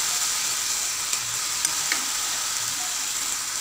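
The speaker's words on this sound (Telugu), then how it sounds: "సరిగ్గా గరిటెతో కలుపుకోవాలి" Frying mushrooms in ghee being stirred with a ladle, a steady hiss of sizzling fat with a few faint scrapes, close by and with no voices.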